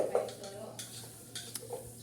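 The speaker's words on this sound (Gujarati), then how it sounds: "લોકો ચાલુ વાસણ ઘસવાનું." Pots, pans and cutlery being scrubbed in a home kitchen: soft metallic clinks and rubbing scrapes, low and intermittent, with faint voices nearby.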